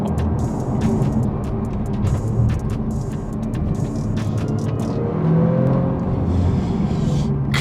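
Audi RS4-R tuned by ABT accelerating, its engine a steady loud rumble and rising drone heard from inside the car with road roar underneath, no talking.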